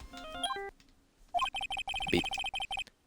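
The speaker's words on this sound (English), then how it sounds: "I know that song your phone plays when it rings." Emma's phone rings with a tune from the video game Phoenix Wright: Ace Attorney as a bright electronic melody: a quick rising run, a pause, then a repeated pulsing phrase of short clipped notes, clear and with no talking.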